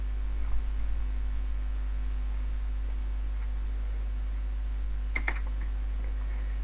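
Keyboard keys tap sparsely while code is deleted on a computer, soft close clicks over a low electrical hum, with one sharper cluster of clicks near the end.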